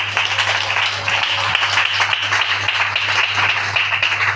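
A church congregation claps and cheers together in a loud, dense, continuous wave of applause that holds steady throughout.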